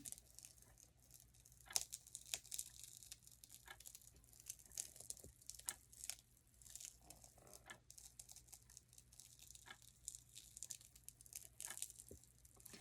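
Crunchy packaging crinkles and crackles in scattered bursts, close and fairly quiet, with brief pauses between handlings.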